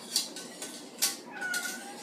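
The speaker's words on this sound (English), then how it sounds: "That's our cat in the background if you're wondering." A cat meows a few times in the background, faint and distant, with a longer drawn-out call near the end.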